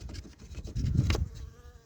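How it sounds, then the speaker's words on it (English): Honeybees buzzing steadily around a backyard hive with a honey-flow style frame setup, a close, continuous droning hum that swells louder as bees pass near. "But yeah, got bees."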